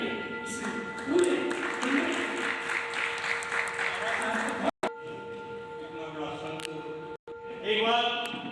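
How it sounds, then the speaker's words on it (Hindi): An audience at a Gita ashram memorial gathering for a late swami claps in sustained applause lasting several seconds, with a brief break, while a voice speaks over it amid steady electrical hum. "एक बार ताली बजाइए"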